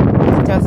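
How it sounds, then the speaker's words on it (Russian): Wind buffeting the microphone as a dull, rumbling roar under a single spoken word, close and fairly loud for a brief moment. "Ой, простите за ветер."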